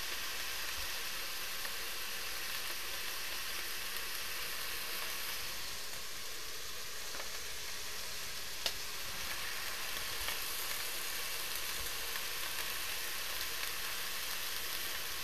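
Sausage removed from its casing fries in a pan with a continuous, even sizzle, close but fairly quiet, with no voices.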